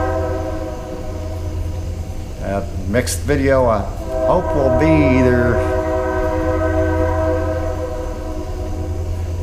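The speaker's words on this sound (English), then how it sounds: "sorry for the train" A train rumbles past with loud, sustained horn blasts rising and falling, while someone talks over the din.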